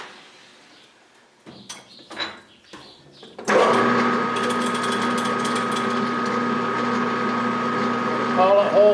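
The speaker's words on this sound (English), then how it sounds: "So we are drilling a" A power drill runs steadily at close range boring a 17/64 hole for a motorcycle shock tool build, after a few brief knocks and handling sounds; a sustained whine continues to the end.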